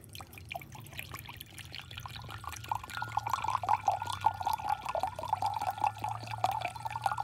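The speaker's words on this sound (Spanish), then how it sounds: "este es el vinagre que yo estoy utilizando. La marca no importa. Vamos a medirlo." Vinegar poured into a measuring cup, a steady close liquid trickle with dripping that grows louder partway through, heard alone without talk.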